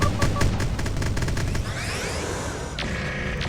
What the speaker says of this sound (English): There goes the missiles. There goes the lasers.